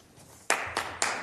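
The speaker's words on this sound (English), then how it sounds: "I know everybody is sometimes tempted to applaud speakers" Scattered hand claps from a few audience members at a city council meeting, three sharp isolated claps close by in a quiet room, with no talking.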